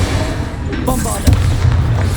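A Bombarda spell blast in the Hogwarts Legacy video game: one heavy, booming explosion bursts out about halfway through and rolls over a steady low rumble, with a voice present in the mix.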